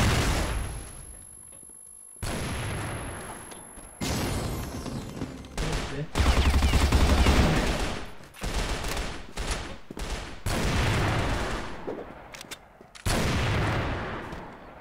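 Gunfire from a weapon in the video game Crossfire, on a castle map: loud, dense bursts of automatic shots and booming blasts in repeated volleys, separated by brief quiet gaps.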